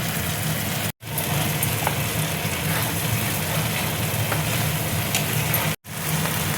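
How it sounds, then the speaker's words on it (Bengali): Ground spice paste sizzles hard in a pan of fried onions while a paneer dish cooks, making a loud, steady frying hiss that cuts out briefly twice. "পেঁয়াজটা দেখো ভাজা হয়ে গেছে, এবার আমি বাটা মশলাটা দেখো দিয়ে দিচ্ছি।"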